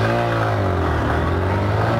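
Honda and Yamaha motorcycles pull away hard from a standing start in a street drag race, a loud, steady engine roar holding close throughout with no pauses.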